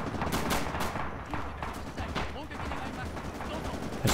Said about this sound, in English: there are some suppression effects from the heavy machine guns here